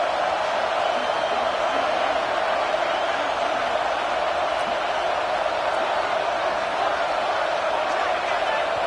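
Dense, steady roar from a football stadium crowd at an FSU vs SMU game, loud and sustained without letup, with a broadcast voice faintly mixed in.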